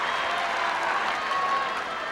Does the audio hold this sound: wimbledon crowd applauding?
yes